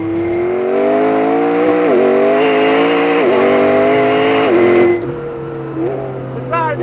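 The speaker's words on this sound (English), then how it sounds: "The almost turbocharged sound you get to the V8, but then particularly when you lift off over that and the turbos are extraordinary." McLaren GTR supercar twin-turbo V8 on a race track, a loud sustained engine drone with rising and falling revs as it accelerates and lifts off, dropping away near the end, with someone talking over it.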